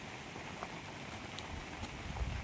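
Faint, steady rain patters through the forest along the Girnar trekking trail, a soft even hiss with a few scattered drops and no voices.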